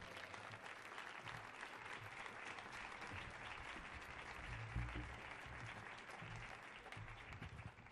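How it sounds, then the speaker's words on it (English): A concert audience applauding a New Orleans trumpeter, steady distant clapping from a crowd that holds at an even level throughout. "Give him a round of applause."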